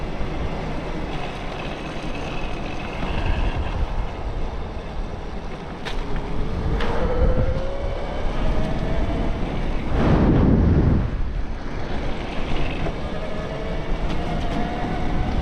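A BBSHD mid-drive electric bike motor running a VESC controller whines steadily during an outdoor ride, its rising and falling pitch sweeping as speed changes, mixed with constant wind rush over the microphone and no talking.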